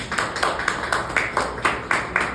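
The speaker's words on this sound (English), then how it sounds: "please give a round of applause to yourself" A small group at a Toastmasters club meeting claps in a loose, uneven rhythm, moderately close, a brief scattered round of applause.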